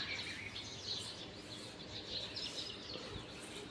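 Small birds chirp and tweet through a quiet morning, faint and a little distant, their short high calls repeating over a soft steady background with no voices.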